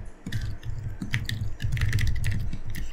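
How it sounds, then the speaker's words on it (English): Someone types on a computer keyboard, a quick run of close clacking keystrokes in an irregular rhythm with no talking. "I'm going to type in Google."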